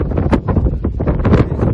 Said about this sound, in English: It's very windy, absolute gale.